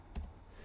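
Keys click on a computer keyboard while numbers are typed into Rhino 3D modeling software, one or two soft quick taps close by in an otherwise quiet room.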